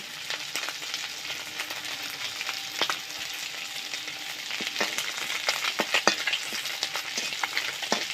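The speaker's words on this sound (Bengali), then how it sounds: "গোটা জিরে দেব, কয়েকটা তেজপাতা দেব, আর 2টো শুকনো লঙ্কা মাঝখান থেকে কেটে দিয়ে দেব" Whole cumin seeds, bay leaves and halved dried chillies frying in hot oil, a steady close crackling sizzle dotted with sharp pops and light stirring clicks, no voices.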